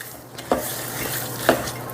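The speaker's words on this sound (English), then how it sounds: "let these simmer and cook around in that cinnamon, sugar, butter goodness for just a little while" Pecans and walnuts simmer in a pan of cinnamon, sugar and butter with a soft continuous sizzle, broken by two brief stirring scrapes.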